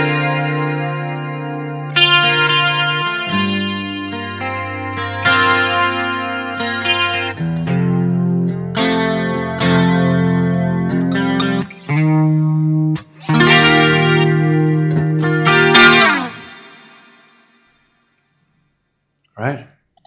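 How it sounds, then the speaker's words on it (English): A clean electric guitar through a Boss GT-1000CORE onboard preamp model plays a sequence of chords and single notes with a shimmering chorus effect, ringing out and fading before a final short strum. "add in a little bit of that chorus again, so you can hear how that sounds."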